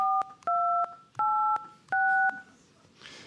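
Software-generated telephone keypad tones, five dual-pitch DTMF beeps in an uneven sequence, each clean and sustained for about a third of a second, followed by a short burst of soft noise at the end.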